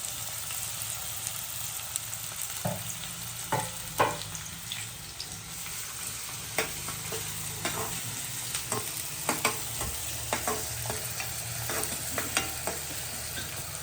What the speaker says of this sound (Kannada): ಇವಾಗ ಎಣ್ಣೆ ಕಾದಿದೆ, ಈರುಳ್ಳಿ ಹಾಕೊತಾ ಇದ್ದೀನಿ